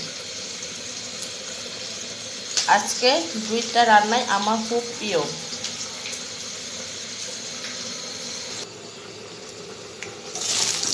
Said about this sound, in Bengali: এটা আমি বাঁধাকপি ধুয়ে পানি ঝরে দিচ্ছি ছাঁকাতে